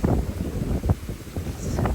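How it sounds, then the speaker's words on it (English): Gusty wind buffets the microphone in low rumbling bursts, loud and close, with a couple of sharper gusts. "Super windy."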